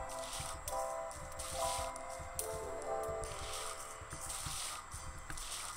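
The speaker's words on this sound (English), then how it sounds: "Let's water our plants." Plants being watered in the Garden Paws video game, with soft repeated splashing and spraying bursts mixed with small squishy footstep-like sounds and chimes at moderate loudness.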